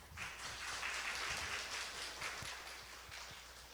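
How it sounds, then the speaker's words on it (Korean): Audience applause welcoming a guest presenter at a symposium marking the second anniversary of Sejong City's infectious disease management support group, a steady, dense clapping that holds throughout. "큰 박수로 맞이하여 주시기 바랍니다"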